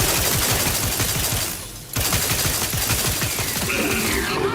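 Turret gunfire in The Outer Worlds 2, a dense, loud stream of rapid shots that drops briefly in the middle and then resumes, continuing without a break to the end.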